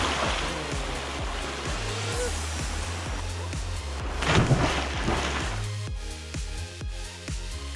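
A rushing river in a Kyoto forest pours along with a dense, continuous hiss of water, swelling briefly toward the middle, while steady low rhythmic thumps sit underneath.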